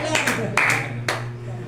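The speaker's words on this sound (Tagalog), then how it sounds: "Pag sinabing palakpak, palakpak." Congregation clapping in a church during worship, a few sharp claps spaced out over a steady low hum, with a voice speaking over them.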